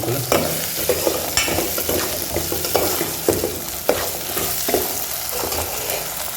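Potatoes and vegetables for a cabbage mixed-vegetable poriyal sizzle in hot oil while a spoon stirs them, giving a steady fry hiss broken by regular scraping strokes and clacks.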